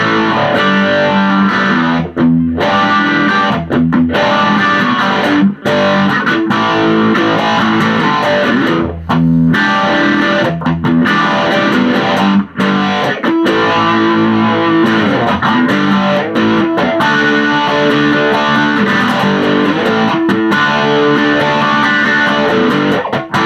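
An electric guitar played through an MXR Phase 90 phaser into a Roland JC-40 amp rings out loud and continuous, with a gritty, sweeping, swirling tone sustained across the whole passage.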